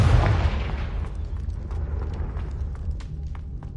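A booming blast from the Confringo spell in a video game, a sharp heavy burst at the start that quickly decays into a low rumbling tail with faint crackles.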